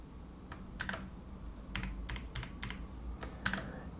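Keys pressed on a KeysMe Lunar keyboard, a mechanical keyboard fitted with fidget spinners, giving sharp clicky strokes in short irregular bursts, close and clear over a low steady hum.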